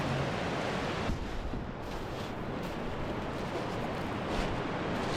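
A fast-flowing river in the New Zealand outdoors roars as a dense, steady broadband rush of turbulent water, loud and continuous with slight surges, and no one speaks.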